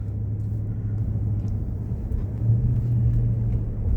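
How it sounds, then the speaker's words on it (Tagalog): Steady road traffic on Stone Road in Guelph, a low, continuous rumble of passing cars that swells slightly toward the end, heard from nearby with no voices. "Traffic dito Stone Road."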